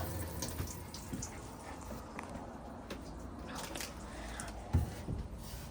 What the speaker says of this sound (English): You then come to your taps,